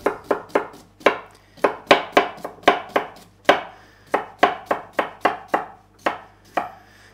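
A knife chopping cucumber on a board, a quick series of sharp, close thuds in uneven bursts with short pauses between runs.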